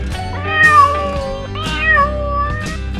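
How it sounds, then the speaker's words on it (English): A cat meows three times in drawn-out, wavering cries, close and fairly loud, with no talking. "C for cat."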